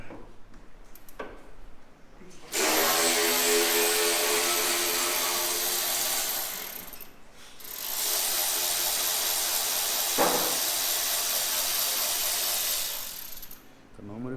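A power tool backs out an exhaust bolt on a Lamborghini during a straight-pipe exhaust install: two long, loud, steady buzzing runs of several seconds each, separated by a short pause, with brief clicks before and between.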